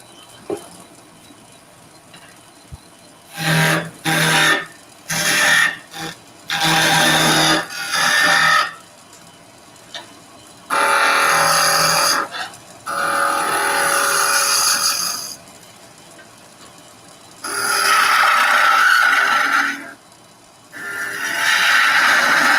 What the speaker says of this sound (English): Let's turn a little egg now just for the hell of it with a skew chisel.